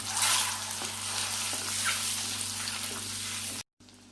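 Eggs sautéing in a pan with chili powder, turmeric and salt for a bachelor-style egg curry give off a steady, close sizzle with a low electrical hum beneath, cut off by a short silence near the end.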